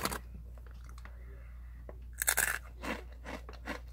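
Someone bites into crunchy, spicy red Takis rolled tortilla chips, giving a few loud, close crunches in a quick burst with softer chewing after it against a quiet room.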